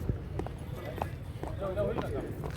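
Hooves of a Nukra stallion dancing make soft, rhythmic clip-clop steps on the ground, moderately close, under someone talking.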